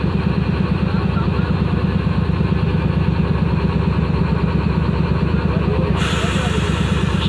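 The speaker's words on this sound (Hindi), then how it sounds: "ये पैच किया जा रहा है इंजन को डब्बों के साथ" Diesel locomotive engine of a Pakistani express train idling steadily and loudly while being coupled to its coaches, a continuous low rumbling throb throughout with a slight shift near the end.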